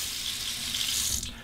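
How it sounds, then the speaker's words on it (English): Cold tap water runs steadily into a sink to soak an alum block after a shave, a close, even hiss that tapers off at the end. "remove the cap, soak it under the cold water"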